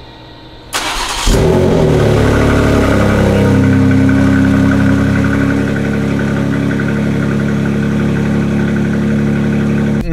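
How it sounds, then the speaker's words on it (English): A car engine cold-starts with a brief crank, then catches and settles into a loud, steady, high idle that runs on without a break. "Nice little cold start."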